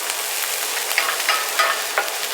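Chopped celery and carrots frying in a pan, with a steady close sizzle and several distinct scraping strokes as the vegetables are stirred around.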